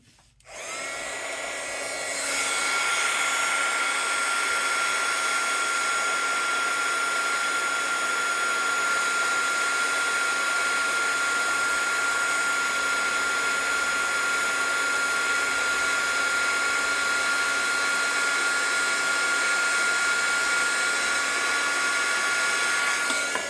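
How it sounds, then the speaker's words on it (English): A heat gun blows hot air onto Sizzix shrink plastic held by a ring, a steady loud whooshing roar with a high whine that starts abruptly and runs on unbroken, with no talking. "And I don't want that heat gun to melt anything."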